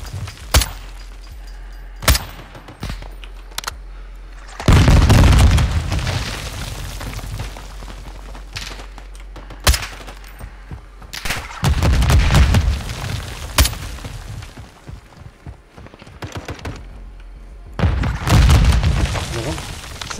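Explosions and gunfire in Call of Duty Modern Warfare II, with sharp isolated shots and several heavy booming blasts with rumbling tails, loud and close, with voices talking in between.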